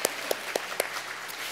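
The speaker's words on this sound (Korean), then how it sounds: "박수 한번 하시죠" A church congregation in a Sunday worship service claps in a slow, sparse rhythm, about five distinct claps over a second and a half against quiet room tone.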